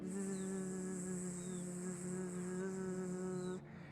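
A steady, faint humming buzz from breathing during a yoga practice holds level and unbroken, with no talk, then drops off right at the end.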